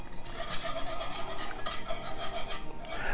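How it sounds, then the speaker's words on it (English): A spoon stirs heavy cream and whiskey together in a pan, with continuous scraping and swishing strokes in a steady, close, fairly loud rhythm and no talking. "We're just gonna go ahead and get that stirred up together."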